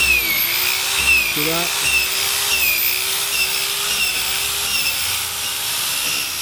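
A power sander with 80-grit paper works along the rub rail of a Nuova Jolly rigid inflatable boat, a steady high-pitched whine and grinding hiss running continuously. Brief speech cuts in over it.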